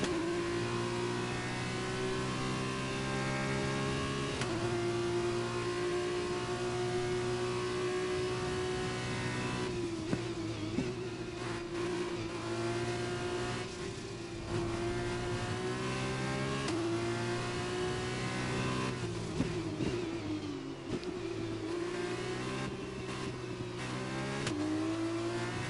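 The engine of an F2 race car in the F1 2021 video game whines steadily at high revs through about half a minute of racing, with repeated gear shifts dipping and climbing the pitch, close up and continuous.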